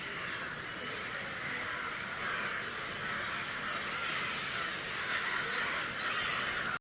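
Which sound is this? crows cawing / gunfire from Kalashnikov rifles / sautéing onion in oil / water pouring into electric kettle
crows cawing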